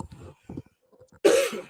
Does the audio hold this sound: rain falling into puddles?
no